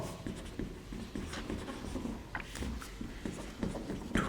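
Chalk or marker scratching across a classroom board during a Class 12 chemistry lesson on solid state, giving short repeated strokes in an uneven rhythm, close and moderately loud over a faint room background.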